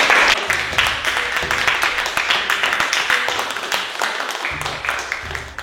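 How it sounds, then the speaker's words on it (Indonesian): A class of students in an Indonesian school gives a dense, steady round of applause, many hands clapping at once and fading slightly toward the end, with faint voices mixed in. "1, 2, 3, tepuk tangan yang meriah"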